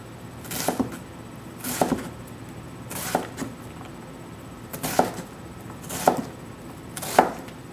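A knife dices an onion on a cutting board, giving six crisp, separate chops spaced about a second apart, close up against a quiet room.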